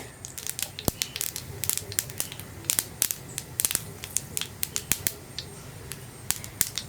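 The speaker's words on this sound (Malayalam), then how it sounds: "ഇപ്പോൾ നമ്മുടെ കടുക് പൊട്ടി കഴിഞ്ഞുകൊണ്ടിരിക്കുന്നുണ്ട്" Mustard seeds spluttering and popping in hot oil, a rapid irregular string of sharp crackles over a low sizzle.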